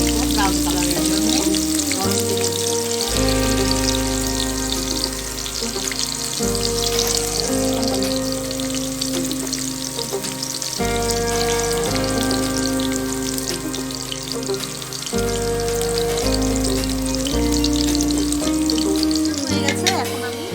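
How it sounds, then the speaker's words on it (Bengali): Onions frying in a pan until brown give a steady, continuous sizzle that runs under prominent background music, with no one talking. "পেঁয়াজ আর কি ভাজতে দিয়ে দেবো ব্রাউন কালারের জন্য।"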